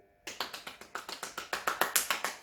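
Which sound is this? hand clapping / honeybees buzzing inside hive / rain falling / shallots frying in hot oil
hand clapping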